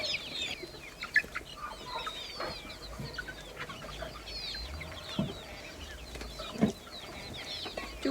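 Hens and chicks cluck and peep around feeding time in a yard, a soft, scattered chorus of small calls with a few louder clucks, moderately distant and never pausing.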